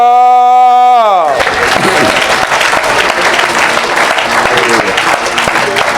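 Church congregation bursting into loud, sustained applause and cheering after a sustained musical chord cuts off, the clapping dense and continuous for several seconds.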